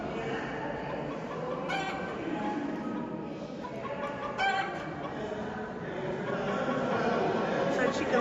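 Chickens cluck and cackle inside a reverberant church, with a crow-like call rising around the middle, over a steady murmur of background noise.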